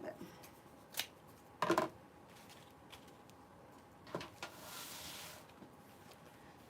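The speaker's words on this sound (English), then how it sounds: "I'm going to trim this one down a little" Scissors trim a 24-inch bumblebee swag with a few crisp snips and rustling of the material, close and soft, while a voice talks quietly underneath.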